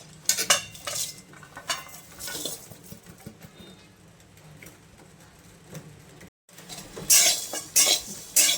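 Tea masala spices are dry-roasted in a pan, with metal utensil clinks and scraping stirs. Bursts of clatter come close and fairly loud, with quieter stretches between them and a short gap before a final louder flurry.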